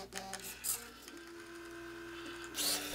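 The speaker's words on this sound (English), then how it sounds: "The marker is lowered and lifted from the tape with an additional servo." Servos on a homemade Turing machine raise and lower a dry erase marker over the tape, giving a faint whirring buzz with brief mechanical clicks at the start and a louder burst at the end.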